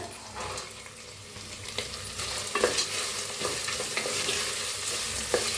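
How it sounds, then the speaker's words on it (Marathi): Peanuts and peas fry in a pan, with continuous sizzling and a spatula scraping and stirring in irregular strokes, close and fairly loud with no talking. "आता त्याच्यातच टाकूया शेंगदाणा आणि मटर"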